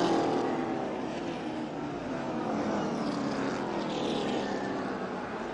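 Race cars running bumper to bumper through turns three and four, a steady loud roar of engines sweeping past with a slight shifting drone, no voices over it.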